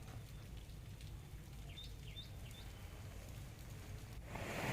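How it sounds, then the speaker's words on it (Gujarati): Light rain patters softly and steadily after a long dry spell in Kalyanpur, Gujarat, with a few faint bird chirps partway through and a slight swell near the end. "કલ્યાણપુર પંથકમાં લાંબા વિરામ બાદ ધીમી ધારે વરસાદ વરસ્યો"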